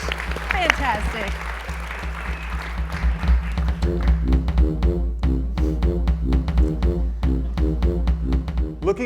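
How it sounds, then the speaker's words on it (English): An audience at the RISE 2025 Front Porch Follies performance gives Matt a round of applause. Dense, steady clapping fills the clip, with voices and some tonal sound running underneath. "Let's give Matt a round of applause."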